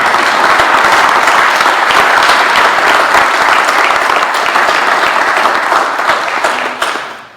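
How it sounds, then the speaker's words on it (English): A full room at an Idyllwild community meeting breaks into a loud, sustained round of applause, dense clapping from many hands that holds steady before thinning and fading out at the end. "I want to give a round of applause to our unsung hero"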